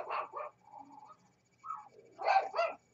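A small dog barks and yips several times, with short whimpering sounds between bursts, fairly close and moderately loud.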